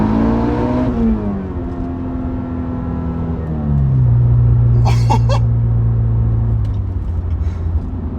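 Built 510whp Volkswagen Golf R accelerating hard in first gear, a loud engine note climbing quickly, then a shift to a deeper steady drone, with a few brief sharp clicks midway.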